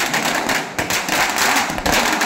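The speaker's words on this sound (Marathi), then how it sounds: "फटाके फोडून लोकांनी जल्लोष सुरू केला।" Firecrackers burst in a street celebration in Badlapur, a dense, loud crackling barrage with repeated sharp bangs and no pause across the short stretch.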